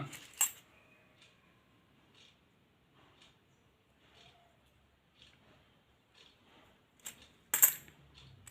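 Uncleaned Indian commemorative coins from the Bombay Mint are handled quietly, with a few faint metallic clinks and two sharper coin clatters near the start and end, against soft background sounds.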